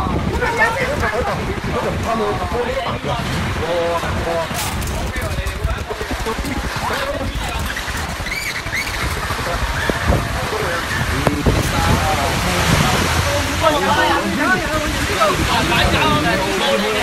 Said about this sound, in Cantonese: 龍捲風嚟嘅